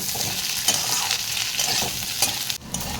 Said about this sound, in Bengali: কুমড়োটাকে ভালো করে ভেজে নেব